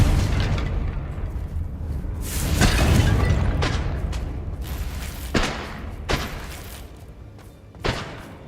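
A Confringo blasting spell in Hogwarts Legacy, a heavy rumbling explosion swelling and fading, followed by several sharp thuds and impacts at irregular intervals.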